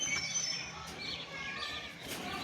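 Madras pigeons kept in a loft give soft, faint calls and chirps against a quiet background, with a few brief rustles.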